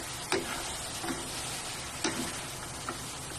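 Chop suey vegetables stirred in a hot smoking pan, a steady faint sizzle broken by several sharp scraping clacks of the utensil at irregular intervals, with no talking.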